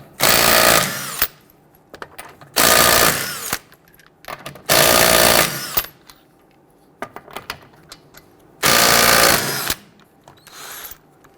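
Pneumatic impact wrench loosening lug nuts on a 2006-2012 Toyota RAV4 wheel: four loud, harsh rattling bursts of about a second each, separated by quieter gaps with faint clinks.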